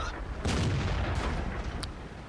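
A tank cannon fires in World of Tanks from a Leopard Prototype A, a heavy booming blast that rolls into a long rumbling tail over steady engine noise.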